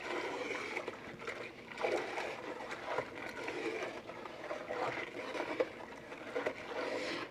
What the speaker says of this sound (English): we are going to stir this until everything dissolves